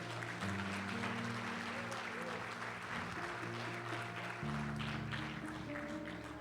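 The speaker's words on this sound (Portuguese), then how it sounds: "Dê um forte aplauso ao Senhor." Church congregation applauding over sustained music, a steady wash of clapping running throughout at a fairly even, loud level with organ or keyboard chords underneath.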